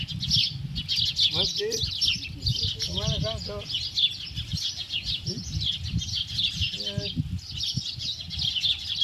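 Dense chorus of sparrows chirping nonstop in the background, lively and bright, with people talking intermittently over it.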